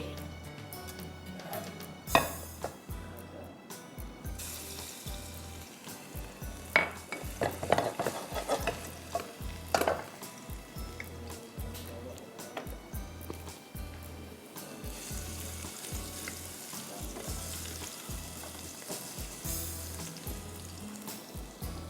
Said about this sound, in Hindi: अभी डालूंगी मैं गार्लिक और फिर मैं चिकन डालूंगी